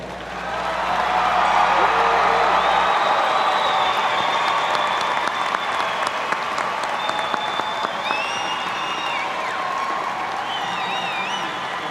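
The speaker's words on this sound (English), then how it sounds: "Ladies and gentlemen, let's give them one big round of applause." A large audience claps loudly for standing graduates at the OTC 2017 commencement, a dense sustained roar of applause building within the first second or two and holding steady, with some scattered cheers and whistles riding on top.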